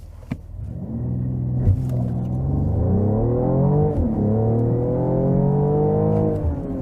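A Mercedes-AMG SUV coupé accelerates hard from standstill to 90 km/h, its engine rumbling loud and close, revs climbing through several gear changes in a rising, stepped roar.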